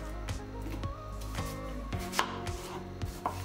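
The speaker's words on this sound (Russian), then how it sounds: "Одну луковицу нарежем на кубики." An onion is diced into cubes with a knife on a cutting board, a quick series of sharp, close chopping knocks in an uneven rhythm.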